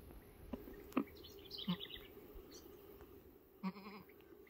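A dairy goat on a livestock trading farm in Dormentes, Pernambuco, gives a few short, faint bleats amid insect buzz and light outdoor background noise.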